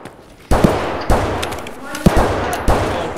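Gunshots from the Escape From Tarkov video game, four loud sharp reports at roughly half-second to one-second intervals, each followed by a short ringing decay, with tense talk heard between them.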